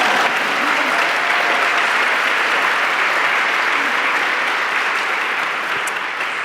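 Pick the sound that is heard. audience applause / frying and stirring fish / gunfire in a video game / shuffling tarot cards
audience applause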